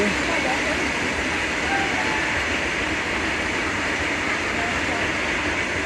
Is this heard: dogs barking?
no